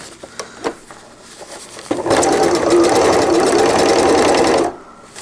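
A sewing machine stitches through four thick layers of fold-over elastic on a cloth diaper cover gusset, starting after a few clicks and handling noises into a loud, steady whirring run, then stopping abruptly.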